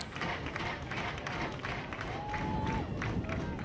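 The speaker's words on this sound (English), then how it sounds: "The crowd is begging for a strikeout here." Softball crowd at an Iowa vs Ohio State game urging a strikeout: a steady, dense wash of cheering, clapping and rhythmic stomping at moderate distance, with faint voices mixed in and no clear pauses.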